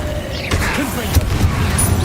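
Confringo explosive spell going off in Hogwarts Legacy, a short burst with a low boom under a spoken voice.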